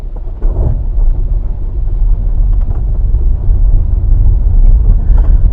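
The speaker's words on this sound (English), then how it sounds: "You'll probably hear a lot of noise at this bit on this gravel loose stuff." A car drives over loose gravel on a road near Kilmarnock. A loud, close, continuous rumbling crunch of tyres on stones builds steadily, with wind buffeting the microphone.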